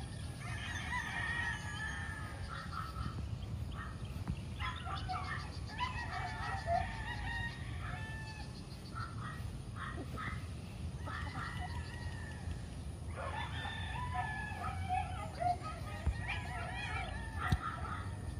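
Roosters crow repeatedly over a background of clucking chickens, with a dog barking faintly at times; no talking.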